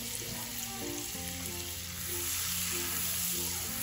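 Butter sizzles and crackles in a hot frying pan while garlic butter mud crabs are cooked, a dense steady fizz close up that swells louder toward the end, with stirring clinks and no talk.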